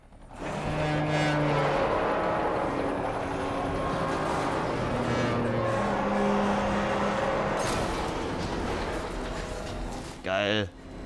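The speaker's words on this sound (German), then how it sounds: "Schalten Sie dann in den Rückwärtsgang. Und seien Sie bitte vorsichtig mit dem Wagen, Mr. Wayne" In the Batman Arkham Knight video game, the Batmobile's engine rumbles and whines loudly while reversing and winching, with a mechanical whir near the end and game voices mixed in.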